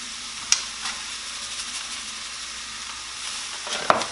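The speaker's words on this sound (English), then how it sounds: "Stir our quinoa a little." Quinoa simmers in a pot with a soft, constant bubbling hiss, while a spoon stirs it and knocks against the pot twice, once near the start and once near the end.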